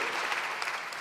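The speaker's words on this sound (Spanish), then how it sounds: "Denle ese aplauso al Rey bendito." A church congregation gives a brief, dense burst of steady applause at a moderate level.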